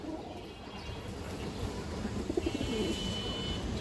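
Pigeons kept for sale, including silver, khaki and green-necked breeds, coo softly amid a steady background rush. The low, faint, rolling calls grow a little more noticeable partway through, with no talk.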